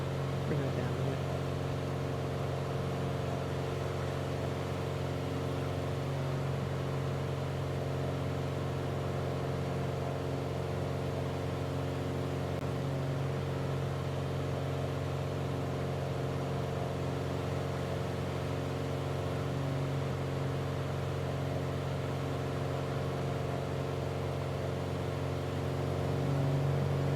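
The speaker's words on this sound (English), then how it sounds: "You must be over revving your engine." Aircraft engine drone in Flight Simulator 2020, a steady tonal hum with layered harmonics holding at high revs, constant and moderately quiet across the whole stretch.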